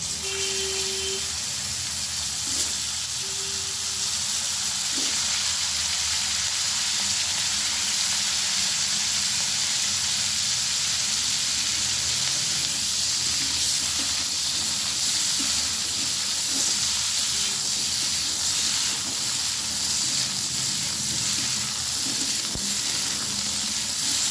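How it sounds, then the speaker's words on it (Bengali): Cauliflower florets fry in a pan of oil with a loud, continuous hissing sizzle that holds steady and close for the whole stretch, with no talk over it. "এবার আমি ফুলকপিগুলো ভেজে নেব।"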